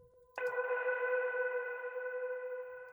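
An Omnisphere synth patch run through Guitar Rig with EQ holds a single sustained bright tone with stacked overtones and a little effected shimmer, entering sharply after a brief faint pause and ringing steadily, fairly soft, with no talk.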